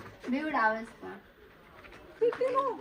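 A small bird perched inside an old village house in an abandoned haunted village, giving soft cooing calls in two short bursts with a quiet gap between them.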